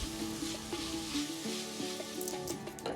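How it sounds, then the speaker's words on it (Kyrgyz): Onion and meat fry in a pan for chymchyma, a steady close sizzle with a few brief stirring knocks and scrapes, with no talking. "Ортоңкотто эми пияз менен этти дагы кызарта кууруп алабыз."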